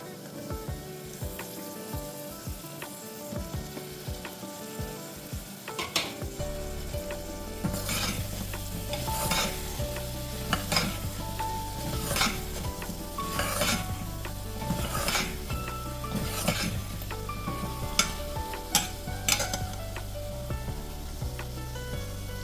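Mixed vegetables hit a hot pan and fry with a continuous sizzle, while a utensil scrapes and clinks against the pan in repeated stirring strokes, close and without talk.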